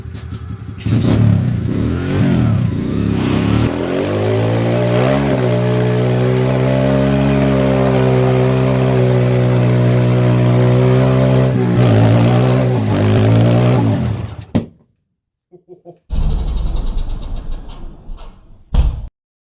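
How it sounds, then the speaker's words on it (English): A Honda ATC70 fitted with a 125 engine revs hard during a burnout, a loud sustained close engine drone holding steady, then cutting out abruptly and sputtering back briefly in a few rough bursts. "I'm going to clutch it. I'm going to throttle it from here."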